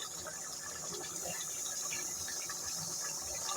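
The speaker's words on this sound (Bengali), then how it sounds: "ওই জন্য অল্প পরিমাণ পানি দিয়ে দিলাম" Water poured into beef bhuna curry simmering in a pot, a steady broadband splashing rush that runs unbroken throughout, fairly close with no voices.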